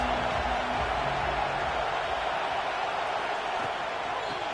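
A stadium crowd at a football game keeps up a broad, steady roar from the stands, loud and sustained throughout the short stretch.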